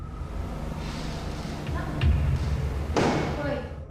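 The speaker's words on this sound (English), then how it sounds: "It sounds to me like a door creaks and then something bangs loudly nearby." In a social hall, a door creaks faintly and then a loud thud bangs nearby, with a second heavy knock shortly after, amid steady room noise and a voice speaking.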